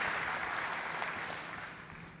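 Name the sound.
audience applause for Andrew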